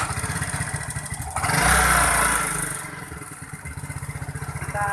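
A Yamaha Mio scooter fitted with a King carburetor and suffering a hesitant first pull idles with a close, pulsing putter, then revs up in one loud swell before dropping back to a rhythmic idle.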